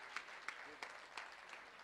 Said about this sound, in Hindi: आप सबकी भरपूर तालियों में जावेद सिद्दीकी साहब तशरीफ़ ले आए हैं